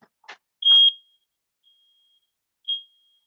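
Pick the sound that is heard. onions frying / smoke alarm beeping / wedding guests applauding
smoke alarm beeping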